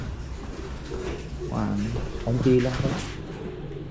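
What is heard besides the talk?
pigeons cooing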